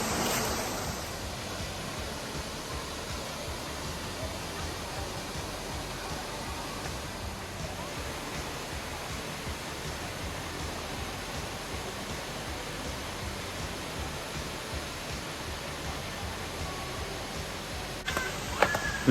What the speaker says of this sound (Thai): น้ำตกอยู่ตรงนั้นนะครับ